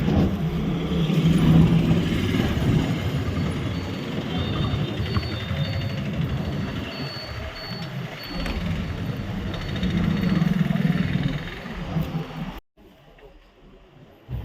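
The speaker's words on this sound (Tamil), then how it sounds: "பஸ் ஸ்டாண்ட்லேருந்து வெளியே வந்துட்டு இருக்குங்க" A town bus in Nagercoil pulls out of the bus stand, its engine rumbling and revving steadily with a rattling cabin din for several seconds before the sound cuts abruptly to near silence at the end.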